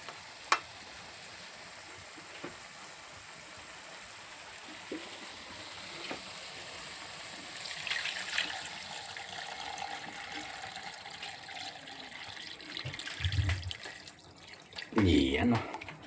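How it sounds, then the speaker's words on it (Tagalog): Water is poured into a pot of chicken tinola cooking on the stove. Low sizzling and faint clinks build to splashy gushing bursts near the end. "Lagyan na natin ng tubig."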